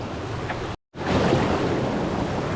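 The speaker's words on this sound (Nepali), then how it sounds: "खोला चाहिँ अति बवाल छ यार।" A fast mountain stream roars as a broad, steady rush of water, close and loud, broken by a brief cut-out before it resumes.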